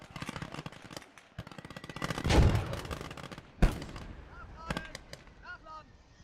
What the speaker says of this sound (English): This mortar supporting the defense of this position.